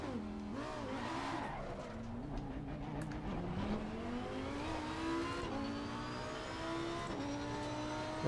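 Lamborghini in a racing simulator driven with Heusinkveld Ultimate+ pedals, the engine revving up and down through repeated gear changes, rising pitch sweeps over a steady rumble, with some tire squeal and no talk.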